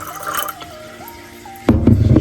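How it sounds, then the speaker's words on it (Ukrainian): Water is poured into a coffee maker up to the valve, a faint trickle followed by a louder splashing pour near the end, close and alone with no talk. "Наливаємо сюди водичку до цього клапана."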